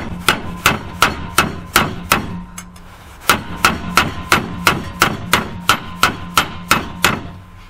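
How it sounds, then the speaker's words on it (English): Sharp, ringing metallic hammer blows flattening a copper sheet, struck at a steady rhythm, close and loud, with a short pause partway before the strikes resume. "Well, you can get your hammer out."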